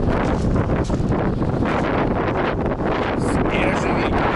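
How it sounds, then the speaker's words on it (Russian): Fresh May wind at a country dacha roars continuously and loudly across the microphone in close, dense buffeting gusts. "Свежий ветер, свежий."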